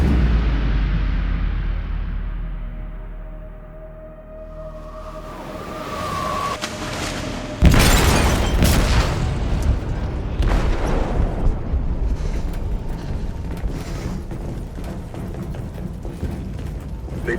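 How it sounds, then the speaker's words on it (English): A bomb detonates inside a ship's hold in Detroit: Become Human, giving one sudden loud broadband boom, then a long rumbling, crackling aftermath full of metallic groans and debris over deep low rumble. "They detonated an explosive in the hold. The ship is sinking, sir."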